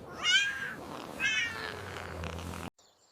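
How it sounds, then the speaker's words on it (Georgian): A cartoon cat from a children's farm-animal animation gives two rising, drawn-out meows, close and clear, followed by a softer continuation that cuts off abruptly into near silence. "კატა. ნახე როგორ კრუტუნებს."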